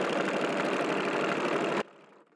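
A sewing machine stitches fabric with a steady, dense mechanical whirr that runs for almost two seconds, then stops abruptly and leaves a faint fading hum.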